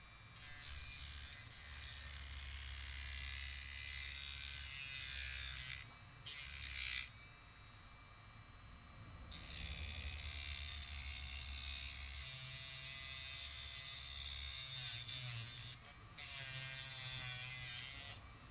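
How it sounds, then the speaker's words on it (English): A Dremel rotary tool with a thin cutting wheel cuts through battery strips on a DeWalt 20V Max pack, a close high whining buzz in long bursts separated by short pauses. "I'm gonna use a Dremel with a thin wheel on there."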